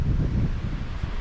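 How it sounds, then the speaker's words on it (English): Strong gusting wind buffets the microphone outdoors at a bivvy camp, a close, low rumbling rush over a short stretch. "The wind is just getting worse and worse."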